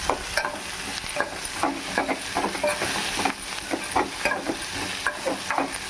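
Amaranth leaves with their stalks being stir-fried in a pan, giving steady oil sizzle broken by repeated scraping and stirring clatters at an uneven rhythm, close and moderately loud, with no talking.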